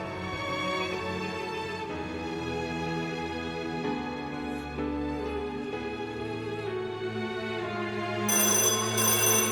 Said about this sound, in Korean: 호련히 전화 소리가 울렸다.